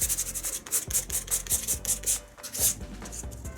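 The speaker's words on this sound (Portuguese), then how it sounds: "Ele tem que virar a lixa para continuar lixando." Wood is rubbed with sandpaper for a demolition-style patina finish, a close, steady series of rhythmic scraping strokes, roughly three per second, with no talk.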